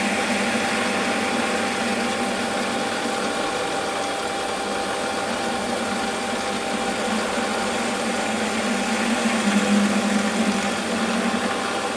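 A Warco metal lathe faces the end of a shop-made quick change tool post part, giving a loud, steady motor hum and machining drone that runs unbroken throughout.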